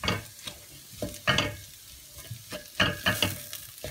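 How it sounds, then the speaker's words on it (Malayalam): Garam masala stirred into frying paste in a pan for paneer masala, with rhythmic scraping spoon strokes about every half second over a close, crackling sizzle. "ഗരം മസാല ഇളകി കൊടുക്കാം."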